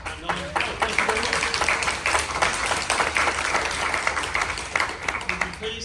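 An audience at a San Diego Comic-Con panel on Blade Runner comics claps in a dense, sustained round of applause, with a voice speaking over the clapping.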